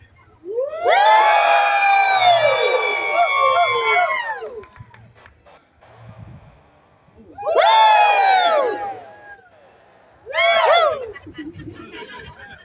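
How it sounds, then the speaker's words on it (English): A street performance crowd in Jackson Square cheering and whooping loudly in three swelling bursts, the first longest, with short quiet gaps between them. "You know what a good cheer sounds like. I want to hear you this time. Nice and loud."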